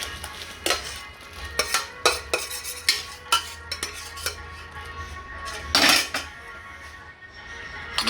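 Paneer being turned over in a pan with the gas off, a metal utensil scraping and clinking against the pan in a steady run of close, sharp knocks and scrapes.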